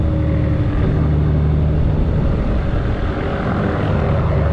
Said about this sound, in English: I hear a low-flying helicopter.